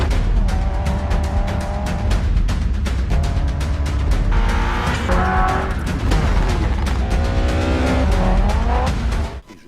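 Rally cars in the Dirt video game race through mud, engines droning loudly and continuously with rising and falling revs and repeated gear changes, tires scrabbling throughout.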